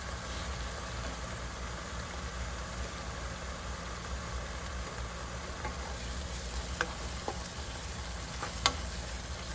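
Sausage and onions fry in a pan with a little oil, giving a steady, moderate sizzle throughout with a few faint pops and clicks toward the end.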